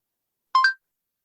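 A short two-part electronic dial tone sounds from a voice-controlled phone app for blind users as a call is placed, one brief clear burst alone in silence.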